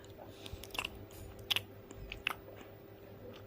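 Close, crisp chewing of a small bite of oil-free pea-stuffed paratha, with a few sharp crunchy bites among soft mastication over a low steady hum.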